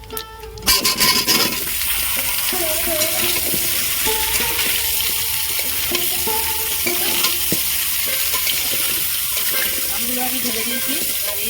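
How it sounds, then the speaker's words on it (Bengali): Raw mango pieces fry with dried chilli, bay leaf, cumin and fennel for a pickle, giving a constant close sizzle broken by repeated scraping and clinking stirs of a spatula against the pan. "শুকনো লঙ্কা তেজপাতা জিরে আর মৌরি দিয়ে আমি ভালো মোটামুটি ভাজা ভাজা করে নিচ্ছি"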